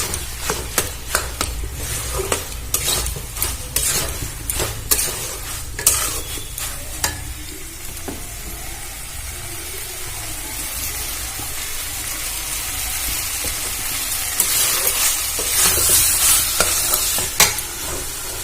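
Boiled potato being stirred into a soybean curry in a pan, with a steady run of scraping spatula strokes over a soft sizzle that grows a little louder toward the end.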